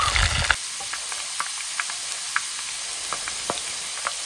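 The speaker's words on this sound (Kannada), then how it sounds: "ನೋಡಿ ಎರಡು ಸೈಡು ಚಂದ ಫ್ರೈ ಆಯ್ತು ನೋಡಿ" Potato twister fries in a small pan of shallow oil, a steady close sizzle and hiss broken by scattered pops and a few light scrapes, with no talking.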